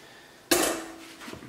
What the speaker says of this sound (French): je vais déposer une assiette par-dessus. Et je vais retourner la poêle.